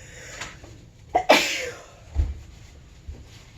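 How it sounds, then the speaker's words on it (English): A single sharp human sneeze bursts out close up after a short inhaled build-up, followed by a couple of faint breaths and small noises in an otherwise quiet room. "I gotta sneeze."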